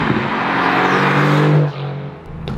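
A Mercedes-AMG GT R supercar engine roars loud and close, holding a strong rising drone before cutting back sharply, then idling briefly.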